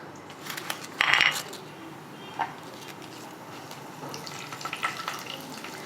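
Cumin seeds hit hot oil with a brief bright crackling burst, then settle into a faint, steady sizzle with a few scattered pops, all heard close up in a home kitchen while mutton patiala is being prepared.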